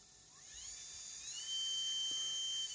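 A small motor in a homemade rotary tool, running at about 30 volts, whirs with a high, steady whine that rises in pitch as it spins up, then holds an even buzzing tone.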